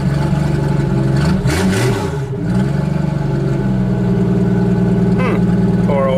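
Stihl MS660 chainsaw running with its muffler off, a loud, raw, continuous engine drone with harsh harmonics that surges briefly into a rev before settling back to a steady roar.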